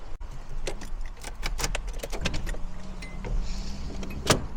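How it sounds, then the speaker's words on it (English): Automatic motorized seatbelt moving in a Nissan S13, a whirring motor run with clicking and rattling mechanical ticks close by, ending in a sharp louder clack. "There goes the auto seatbelt."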